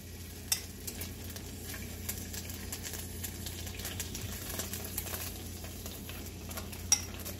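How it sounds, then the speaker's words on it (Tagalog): Coconut milk sizzles softly in a hot wok as a spoon stirs, giving a steady quiet fry with occasional light clinks of utensil against pan, close up and without voices. "So ngayon po ay mainit ang ating kawali. Lagyan po natin ng kaunting gata."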